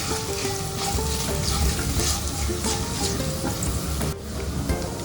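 Shredded cabbage being sautéed in a pan with turmeric and salt, a loud, steady sizzle and crackle of frying with stirring scrapes throughout, close and without talk.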